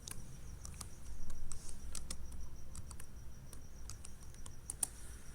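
Rapid, irregular clicks of a computer keyboard as an item name is typed into an Excel spreadsheet, close and fairly quiet, with short bursts and pauses and a few sharper key strikes near the end.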